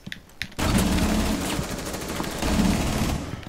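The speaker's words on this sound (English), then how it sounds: "Shotgun again, dude." Shotgun fire in a Rainbow Six video game match, a few faint pops and then a loud, sustained noisy burst of shooting with rumble underneath, close by.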